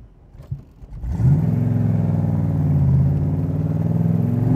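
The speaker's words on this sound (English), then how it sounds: "I'm just barely touching the accelerator and we ran right up to 50 miles an hour" A 1965 Cobra GT replica engine starts quiet, then surges into strong acceleration through the gears, a loud close drone that holds steady and rises gradually in pitch.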